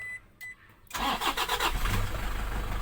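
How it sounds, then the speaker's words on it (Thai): A commuter van's engine is started with a push-start button: a couple of short beeps in a quiet cabin, then the engine cranks and catches into a loud, steady idle close by. "นี่ครับสตาร์ทมาแล้วนะครับ"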